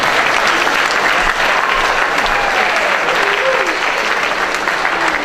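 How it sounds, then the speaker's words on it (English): A crowd at a 2015 Mount Tabor High School college commitment ceremony applauds parents and family, steady dense clapping filling the whole stretch, loud and close with faint cheering mixed in. "join me in a round of applause for your parents and family"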